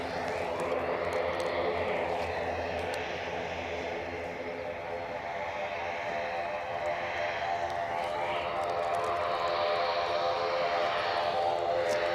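An ATR turboprop airliner passes with a continuous droning engine hum and steady propeller tones, moderately loud and sustained across the whole stretch, with no talk over it.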